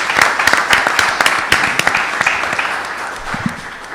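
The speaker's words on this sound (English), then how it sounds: "let's have a round of applause for the people that helped us" An audience at a community broadband debate gives a loud, close round of applause, with many sharp individual claps standing out before it thins slightly toward the end.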